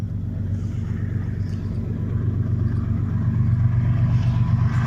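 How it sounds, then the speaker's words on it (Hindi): A freight train led by a GEU 40 diesel locomotive rolls into Meting railway station, a steady, heavy low rumble holding close and continuous throughout, growing slightly louder toward the end. "मीटिंग रेलवे स्टेशन पर एक और मालगाड़ी आते हुए अब ट्रैक पर"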